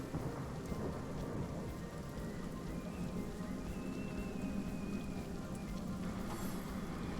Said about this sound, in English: Gonna need to get some more rain going.